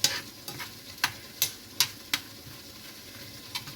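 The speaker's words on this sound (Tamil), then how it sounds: "அந்த கசகசாவும் வீரகமும் பொரியும் போது இந்த வெங்காயத்தை ஆட் பண்ணிக்கலாம்" Onion goes into poppy seeds and cumin frying in a pan, with a soft steady sizzle under a series of sharp, evenly spaced spatula taps and stirs, close and moderately loud, with no voices.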